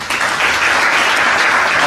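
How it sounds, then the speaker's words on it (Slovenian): A studio audience breaks into steady applause for the guests, a dense, even wash of clapping that holds at full strength for about two seconds. "jaz mislim, da si naši gosti zaslužijo en velik aplavz"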